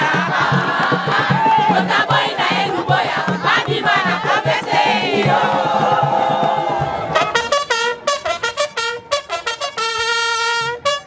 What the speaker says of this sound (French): C'est une foule qui est venue attendre les commandants d'opérations et gouvernants militaires de l'Ituri.